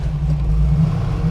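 A 1965 Sunbeam Alpine engine pulls in third gear, a loud, close, droning rumble from inside the car, steady and unbroken, with no speech.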